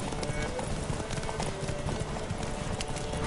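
Roach the horse from The Witcher 3 gallops hard in a race, fast rhythmic hoofbeats pounding close and loud throughout while a voice speaks over the running.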